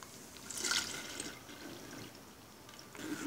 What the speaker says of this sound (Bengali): আমার তরমুজের জুসটা ব্লেন্ড করা হয়ে গেছে। এবার আমি চালনিতে ছেঁকে নিব।